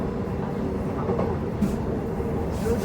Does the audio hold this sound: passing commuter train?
yes